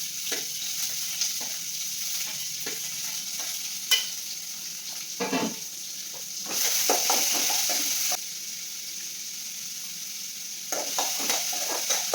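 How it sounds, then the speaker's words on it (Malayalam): Sliced onion sautés in a pan, with repeated spoon scrapes and stirring clatter over a steady sizzle that swells louder for a few seconds midway, heard up close. "പിന്നെ ഒരു സവാള കട്ട് ചെയ്തതും കൂടെ ചേർത്തിട്ട് ഒന്ന് വഴറ്റി കൊടുക്കുന്നുണ്ട്"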